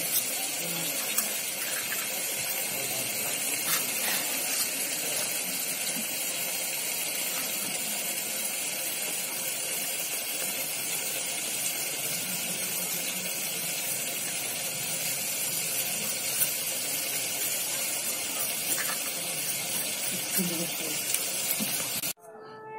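Water pours steadily into a bowl meant for cut potatoes in a home kitchen, a continuous broad rushing flow lasting about twenty seconds and ending abruptly.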